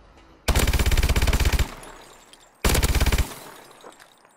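Two loud, rapid bursts of automatic fire from a KF5 submachine gun in Call of Duty: Advanced Warfare, the first burst longer than the second, each trailing off into a fading echo.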